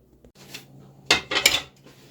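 A metal baking pan filled with a large, wet batter slides into an oven, giving a few soft scrapes and then two sharper metallic clatters close by.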